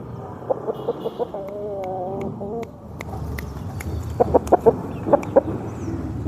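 A rooster and hens of a country-chicken crossbreed cluck in short, sharp repeated calls, close and fairly loud, with a sustained call in the middle and bursts of clucking toward the end.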